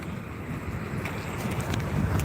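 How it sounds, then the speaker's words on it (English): Wind gusts steadily across the microphone on a West Texas hike, a low continuous rumble and buffeting that builds slightly toward the end, with no voices. "gonna hear some wind out here. It is windy. Windy West Texas."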